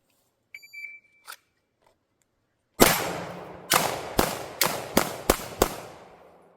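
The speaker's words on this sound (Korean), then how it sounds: "네, 저희 친구들 많이 쏘고 있죠." Pistol shots from a CZ P10F at a shooting range: after a couple of faint clicks, six loud, sharp cracks ring out in a quick, uneven string, each with a short decay, and no talking over them.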